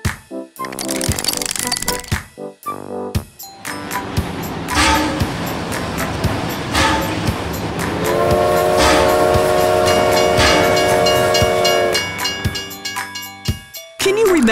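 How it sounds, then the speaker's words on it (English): A train sound effect for children runs as rhythmic rail clatter and rumble, then a loud sustained horn blast sounds for several seconds near the end. "Train!"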